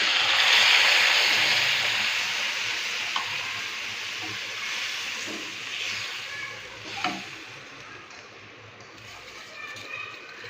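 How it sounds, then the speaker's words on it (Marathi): Vermicelli sizzles as it roasts in a pan with cashew and almond slices, a soft, steady frying hiss near the mic with a few faint stirring scrapes. "यामध्ये काजू आणि बदामचे काप, हे पण शेवयासोबत परतून घ्यायचे 1-5 मिनिट."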